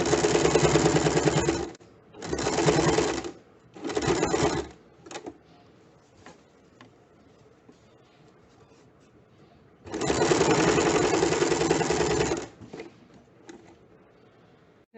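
A home sewing machine stitching the back-and-front joining seam of a high-neck blouse, running in several bursts of steady whirring with short pauses and a longer quiet stretch before a final long run, close and loud.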